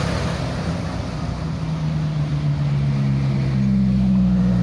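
Hino bus passing by on a Bandung road, a loud, steady low engine rumble with a rising drone near the end, heard alone under outdoor wind noise.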